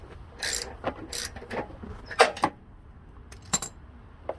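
A 3/8 socket wrench loosening a bolt on a Craftsman 6.5 lawn mower, a series of close, sharp metallic clicks and clinks in irregular bursts, with no talking.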